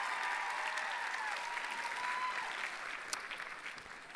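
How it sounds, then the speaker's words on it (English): Audience applause for the MCs at a Youth Day 2019 gathering, a broad, steady wash of clapping from a large crowd, moderately distant and gradually thinning toward the end. "Why don't we give our MCs a round of applause?"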